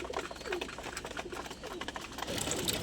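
Pigeons in a home loft, including adult birds just fed, make a steady, close bed of soft cooing and rustling that swells louder near the end.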